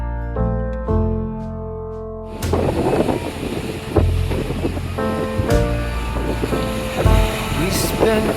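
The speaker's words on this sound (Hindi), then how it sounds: "यहाँ पे ही आ गई ऊंची ऊंची लहरें।" Big ocean waves surge and crash in loud, continuous rushes on the stormy sea at Porbandar, with music playing over the top throughout.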